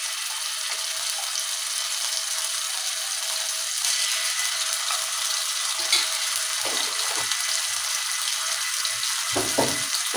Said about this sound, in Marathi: आलं लसणाची पेस्ट आपण थोडं परतून घेऊ चांगल्या पद्धतीने.